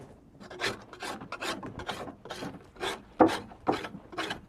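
A homemade draw knife, made from a ground-down kitchen knife with a vise grip clipped on, scrapes bark off a freshly split wood stave in repeated rasping strokes, about eight close, steady pulls with no talk.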